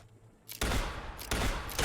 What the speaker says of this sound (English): Shoot the gargoyle!